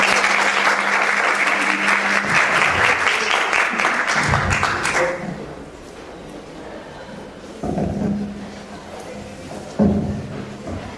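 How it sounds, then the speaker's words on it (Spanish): An audience claps warmly for an invited speaker at a talk on multiculturalism and liaison interpreting, a dense burst of applause for about five seconds that fades out, followed by scattered thumps and a few voices. "la recibimos con un fuerte aplauso"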